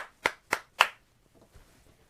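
Three sharp, evenly spaced hand claps ring out close and clear, followed by a few faint taps and then quiet.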